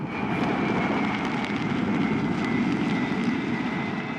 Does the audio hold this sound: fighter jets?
yes